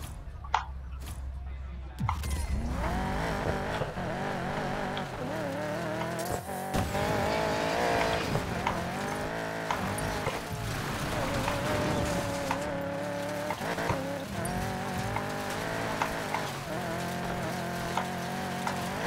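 A car drifts in Need for Speed Payback on Xbox One S, its engine roaring steadily with sustained tire squeal and skidding throughout, loud and continuous after a short quiet opening.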